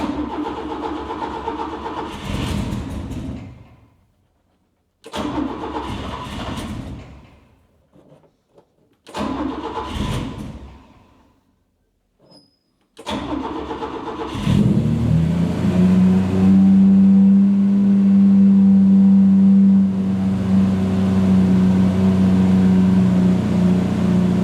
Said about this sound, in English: now let's start the car and see if we have made some improvements.